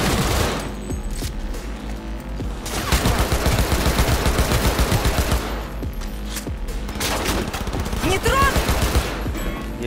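Rapid automatic gunfire in the video game Cyberpunk 2077, long dense bursts and fusillades with short pauses, loud and up front, with game music or effects behind.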